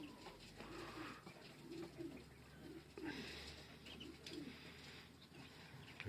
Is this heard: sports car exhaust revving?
no